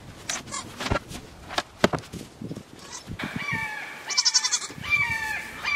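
Goats bleat on a small farm where chickens are also kept, with several short nasal bleats near and far, some overlapping, and high clucking or squawking mixed in toward the end.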